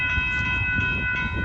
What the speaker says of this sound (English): but here comes Amtrak.